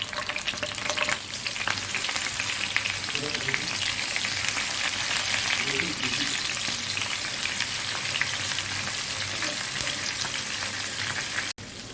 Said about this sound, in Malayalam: നമുക്ക് മീനിട്ട് പൊരിച്ചെടുക്കാം.